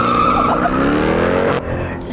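A Dodge Durango Hellcat SRT, a 5,700-pound SUV, launches from launch control at full throttle, its engine roaring loud and steady with rising tone and a brief tire squeal before the note abruptly drops near the end.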